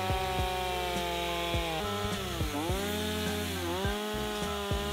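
A chainsaw roars steadily up close, its pitch bending down and recovering several times as the chain bites into cottonwood tree wood.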